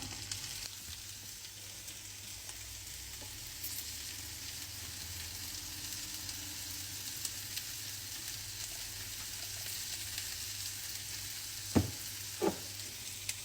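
Food sizzles and fries in a pan as it is tempered, a steady soft crackle with a couple of sharper clinks near the end and no talk.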